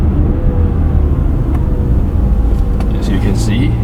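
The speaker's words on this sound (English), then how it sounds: "we can downshift to make it slow down a little bit" A Mazda CX-5 with an added paddle shifter downshifts while slowing for a red light, giving a loud, close in-cabin engine rumble with a low steady drone and road noise.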